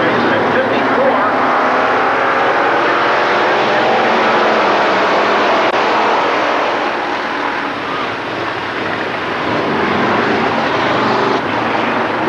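Pro street race car making a heat race run at Adams County Speedway in Corning, Iowa, in 1991: a continuous loud engine roar that holds steady, with a slight dip midway as the car circles the track.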